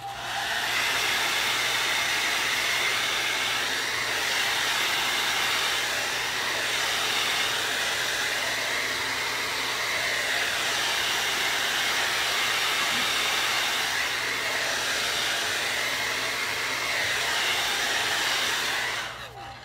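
A hair dryer blows steadily on a watermelon painting to dry its base coat, giving a loud, constant broadband whoosh with a low hum beneath it for the full length, close and uninterrupted.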